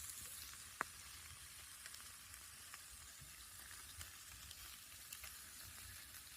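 Chicken stir fry with barbecue sauce sizzles steadily in a pan while camping outdoors, a soft continuous hiss broken by one sharp clink near the start and a few faint ticks, with no voices.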